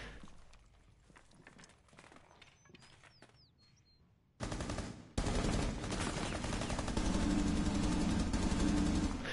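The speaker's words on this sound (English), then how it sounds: "Suppressive fire!" Video game gunfire starts after a quiet stretch with faint bird chirps, then erupts into loud, sustained automatic fire with a few sharp initial shots.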